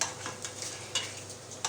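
Bell peppers and spices frying in a pan, a soft steady sizzle with light stirring scrapes and a few brief utensil clicks, close and fairly quiet.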